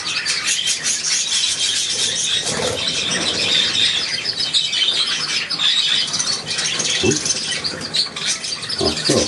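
A budgerigar chirps and chatters continuously in a busy, high twittering stream, close and fairly loud, with occasional soft sounds and a murmuring voice nearby.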